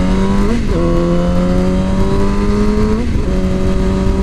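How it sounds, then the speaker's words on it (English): A 2007 Yamaha R6 600cc sport motorcycle pulls away, its loud, near engine climbing steadily through two upshifts with brief dips in pitch, then continuing to rev under a constant engine roar. "So all geared up, R6 is ready to go. Let's go for a spin"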